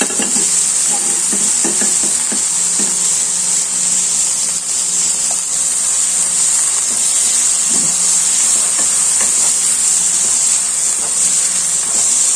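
Carrot and bean thoran stirred in a pan, a steady hiss and sizzle running throughout with scattered scraping clicks and taps from the spoon, no talking.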